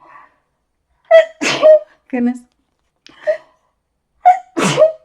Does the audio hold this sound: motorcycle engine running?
no